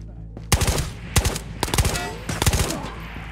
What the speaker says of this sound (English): I hear a lot of gunshots over near the vault